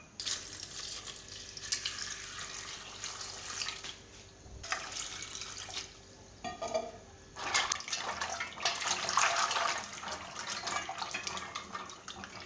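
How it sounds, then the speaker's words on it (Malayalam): Water swishes and sloshes in a bowl in intermittent bursts as rice flakes are rinsed by hand in cold water, fairly quiet and close. "ചുമ്മാ പച്ചവെള്ളത്തിലിട്ടിട്ട് കഴുകിയെടുത്താൽ മതി"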